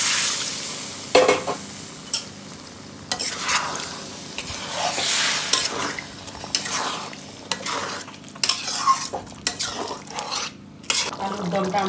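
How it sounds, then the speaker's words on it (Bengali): Potatoes for aloo dum frying in oil after water is poured in, with steady sizzling and repeated stirring scrapes against the pan, moderately loud and close throughout. "এখন আমি অল্প জল দিয়ে দিচ্ছি।"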